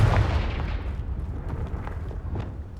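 A Confringo blasting spell explodes in the game Hogwarts Legacy, opening with a loud boom and leaving a long rumbling decay over a couple of seconds, with no talk.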